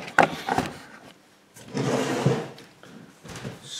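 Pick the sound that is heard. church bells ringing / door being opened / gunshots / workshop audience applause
door being opened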